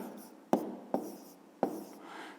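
A pen writes on paper during a fifth-grade math exercise, leaving three sharp strokes over a soft, steady scratching, close by and heard alone.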